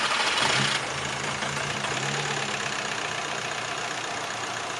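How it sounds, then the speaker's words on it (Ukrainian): A Volkswagen Passat engine turns over with a brief burst of starter noise, then settles into a steady, low, continuous idle hum close by with no one talking. "Навіть заводиться як Passat."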